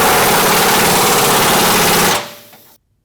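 A power wrench tightens the nut on a GNRK 1117/1116 turnover-ball gooseneck hitch from underneath a truck, giving a loud, dense, rattling burst of about two seconds that then cuts off abruptly.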